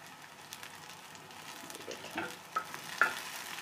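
Tomatoes frying in a pan for an egg omelette, giving a quiet, steady sizzle with a few soft stirring scrapes that grow a little louder toward the end.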